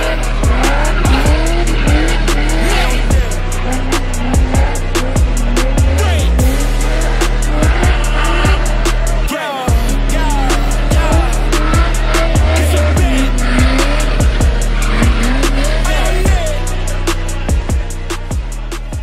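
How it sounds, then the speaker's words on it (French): Rear-wheel-drive race cars drift at a controlled-skid circuit, their engines roaring loudly and repeatedly while tires squeal and skid through the corners. "Quand on vient à Ragno pratiquer le dérapage contrôlé"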